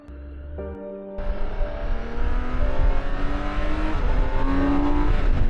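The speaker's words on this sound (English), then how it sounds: "So this is the police bike they use in the Netherlands" A BMW K1600GT Dutch police motorcycle's six-cylinder engine idles briefly, then revs up into a loud, rising drone that holds strong and close as the bike accelerates.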